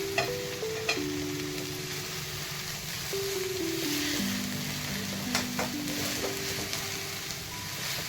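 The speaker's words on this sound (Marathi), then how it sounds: "भाजी आपली थोडी परतून झालेली आहे." Wild taakla monsoon greens sauté in a pan with a soft, steady sizzle and occasional light stirring, joined by a faint tonal hum in the background.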